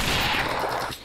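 Gunfire in a shooting video game, a dense rattling burst of rapid shots that fades out near the end, with no voices over it.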